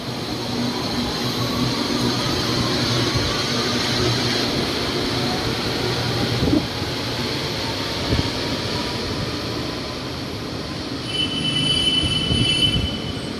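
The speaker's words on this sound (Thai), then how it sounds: "รถไฟฟ้ามาพอดีเลยนะฮะทุกคน แต่คงไม่ทันนะครับ" A Bangkok MRT Yellow Line electric train rolls into Lat Phrao station, wheels squealing and screeching over a steady low rumble, with brief clanks along the way.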